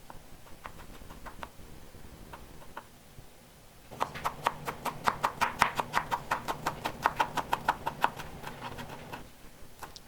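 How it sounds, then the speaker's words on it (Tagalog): Garlic cloves are crushed, peeled and finely chopped on a board: a few scattered knocks come first, then a fast, steady run of close, crisp knife strikes. "3 garlic or bawang, didikdikin lang natin ito at babalatan, tapos hiwain natin ito ng pinong-pino"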